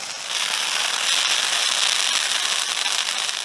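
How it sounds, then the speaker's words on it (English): A garden bonfire on an allotment in December, with a Christmas tree being added to it, giving off steady, dense, loud crackling and hissing that stays constant throughout with no speech. "Now we're going to put the Christmas tree on."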